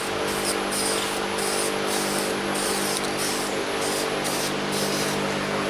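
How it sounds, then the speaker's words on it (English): A steady, close hiss of an aerosol brake-parts spray can spraying continuously for several seconds, with a faint pulsing in the spray. "this is the same spray can we used on the brake parts"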